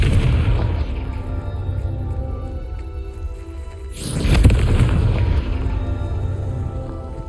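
A Confringo spell explosion in Hogwarts Legacy on PS5, one deep booming blast midway that swells and rolls off over a low rumbling game background.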